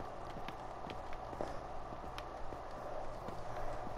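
A horse moves in a video game, giving steady clip-clop hoof falls at a walking pace, moderately loud over a low background hum, with no speech.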